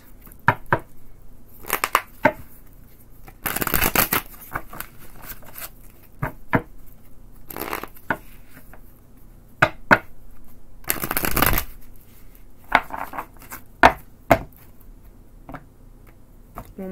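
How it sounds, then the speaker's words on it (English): Tarot cards being shuffled by hand in repeated bursts: short riffling flutters and crisp snaps spaced across the span, with two longer riffle runs, close and fairly loud against a quiet room. "One more good shuffle."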